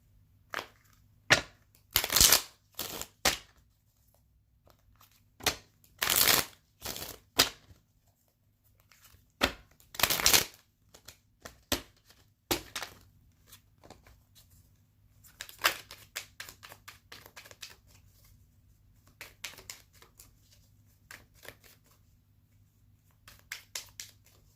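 A deck of tarot cards is shuffled by hand in bursts of crisp riffling and slapping, loud and close, with pauses between, followed by a longer stretch of softer continuous shuffling and no talking.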